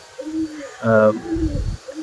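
Pigeons coo close by in a few soft, throaty pulses, with one stronger rolling coo in the middle and a low burbling call after it.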